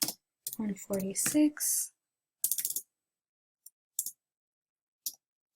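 A voice speaks a number, then a few isolated clicks of computer keyboard keys follow as numbers are typed in, sparse and fairly close in a quiet room.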